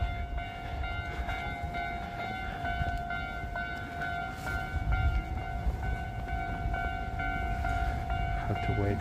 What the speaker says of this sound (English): Have to wait for these trains to pass.